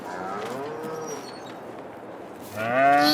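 Cows in the Farming Simulator 22 video game moo in two drawn-out calls, a long low one followed by a louder one close by, with no talk over them.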